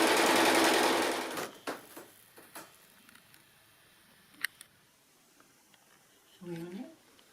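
A domestic sewing machine runs a zigzag stitch along straight fabric edges in one loud burst, then stops. Sparse ticks, handling clicks and a short voice follow.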